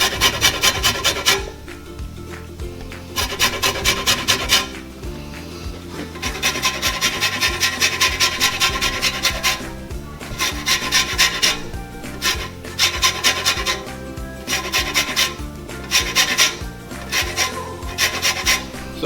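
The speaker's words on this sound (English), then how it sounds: "I'm just going to use a grater here and get some orange zest." Orange zest being scraped on a hand grater gives repeated bursts of dry, rasping strokes in quick rhythmic runs, close and loud, with short pauses between runs.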